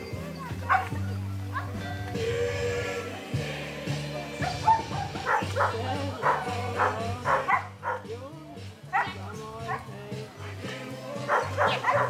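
A two-year-old dog barks repeatedly during a dog trial outdoors, sharp yips and whimpers in irregular bursts, while people talk nearby.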